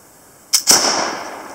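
A flintlock pistol's priming pan flashes without firing the main charge: a sharp crack followed quickly by a second hissing burst that fades over about a second, loud and alone.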